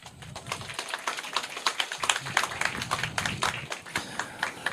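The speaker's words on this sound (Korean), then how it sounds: "박수 한번 치세요." Applause from the audience at a press conference announcing a candidate's party entry and run for office, scattered moderate clapping spread across the room, steady throughout with no voices over it.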